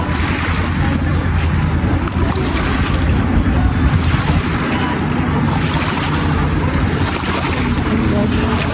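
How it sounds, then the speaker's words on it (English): Rough, choppy water slapping and surging around a kayak as jet skis race past, a loud continuous wash of waves with wind and a low motor hum beneath, and some speech mixed in. "The waves are going hard because people are passing by on like their jet skis really fast."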